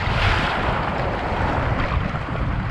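Strong, rough ocean waves surge and break against a rocky shore during a fishing trip on an agitated sea, a steady, loud roar of churning water and wind with no pauses.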